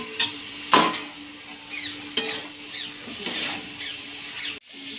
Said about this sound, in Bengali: এবার এতে আমি ফুলকপি ভাজাগুলো দিয়ে দিচ্ছি।